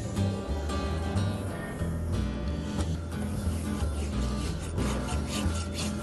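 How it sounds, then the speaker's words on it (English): The smooth side of a rasp works steadily over a horse's hoof, giving continuous close rasping and rubbing strokes with a gritty texture and no talk. "Just using the smooth side of a rasp to shine this up, get rid of any rasp marks that are on it."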